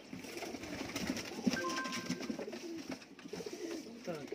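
Sialkoti pigeons cooing in a loft among other birds, a steady, busy murmur of soft coos and calls with chatter close by throughout.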